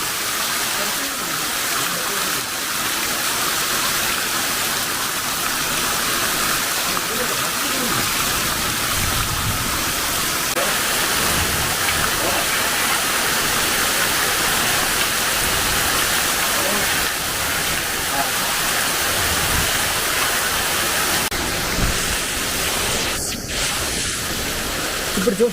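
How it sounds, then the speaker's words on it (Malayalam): Heavy rain pours down steadily in Kuttikkanam, a dense, loud, continuous wash that holds its roar without letup from start to finish. "സൂപ്പർ മഴയാണ്."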